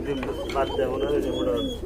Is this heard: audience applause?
no